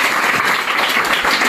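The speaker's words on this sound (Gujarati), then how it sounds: "જોરદાર તાળીઓ ભાઈ. જોરદાર તાળીઓ." Schoolchildren applaud at a primary school student parliament election as the results are announced, a loud, steady wash of clapping from a crowd filling the room.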